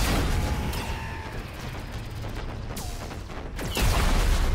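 Rail gun fire in Mass Effect 3, sharp cracking shots with whining sweeps cutting through a steady mechanical combat din, a heavy burst landing near the end.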